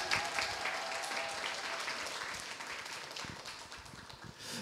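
An orchestral concert audience applauds to welcome the conductor, a steady, distant-sounding roomful of clapping hands sustained throughout without any talk.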